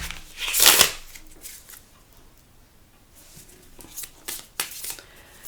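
A deck of tarot cards being shuffled, with a loud riffling burst near the start followed by several quieter card flicks and slides up close.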